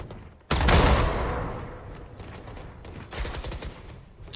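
Gunfire in a tactical shooter game, a sharp loud burst of shots that decays into echoing noise, followed by a quicker cluster of rapid shots later.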